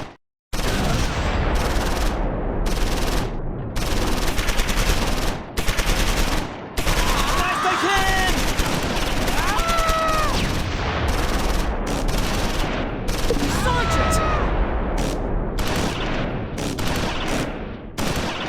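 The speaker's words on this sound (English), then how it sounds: "A German machine gun in the woods to the northeast is suppressing 2nd Platoon headquarters." German machine gun fire in Close Combat 4, set during the Battle of the Bulge in 1944, with loud sustained rapid bursts separated by brief gaps, and shouted voices and whistling sounds mixed in.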